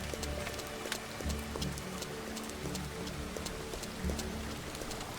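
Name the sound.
rain in video game Farmer's Dynasty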